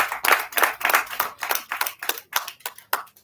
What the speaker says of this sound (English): she deserves a better round of applause